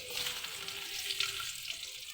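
Garlic sizzles steadily in a hot pan, a bright, crackling fry held at an even, moderate level throughout the short stretch.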